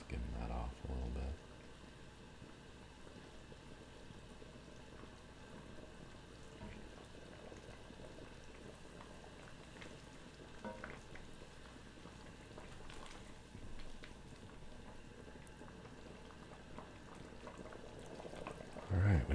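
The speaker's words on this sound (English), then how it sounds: "Alright, we've got some boiling happening here." Low, steady bubbling and simmering from a pot of potato leek soup, a continuous soft churn with occasional small pops, fairly quiet throughout.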